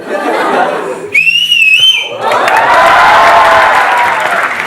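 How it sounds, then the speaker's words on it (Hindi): A loud, shrill mouth whistle rises and wavers for about a second, followed by a burst of crowd cheering and applause that swells and carries on, with voices mixed into the noise. "सर आपके लिए एक सीटी मारना चाहती हूँ,"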